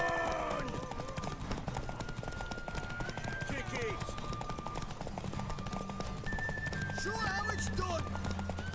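A horse gallops in the video game The Witcher 3: Wild Hunt, steady rapid hoofbeats running continuously beneath game music and a talking voice.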